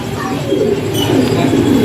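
Soft, low pigeon cooing repeats steadily against a hum of background noise, with a faint voice in the distance.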